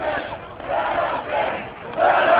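Political protest crowd chanting at the Capitol building, a dense roar of many voices rising and falling in repeated rhythmic surges, loud and close throughout.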